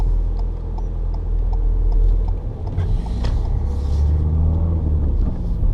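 A car engine pulls away from a junction, a steady low drone that swells slightly as it accelerates, close and continuous throughout with no speech.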